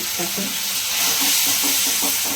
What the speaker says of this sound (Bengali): তেল দিলাম কালো জিরা ফোড়ন দিলাম এরপরে এটা একটু ভেজে নিতে হবে